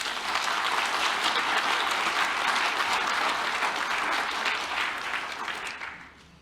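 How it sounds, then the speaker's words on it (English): An audience at a conference claps for the staff, dense sustained applause close and loud for about six seconds before tapering off, no voices heard. "I think they all deserve a round of applause."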